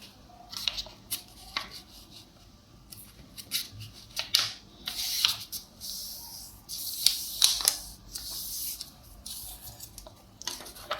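A single sheet of paper, folded in half, being cut with scissors into pages for a small handmade notebook: close, quiet snips and rustles come in irregular bursts, some sharper and denser, with no speech.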